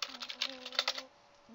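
Quick, quiet clatter of a computer keyboard, a short run of keystrokes with a faint tone in the background, typing in chat during a Yu-Gi-Oh card game.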